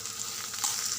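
Thinly sliced large onions frying in oil in a pan for egg curry, a bright continuous sizzle with a stir or toss partway through, close and steady.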